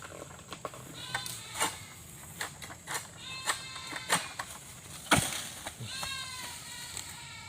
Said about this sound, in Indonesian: Suara kambing juga nih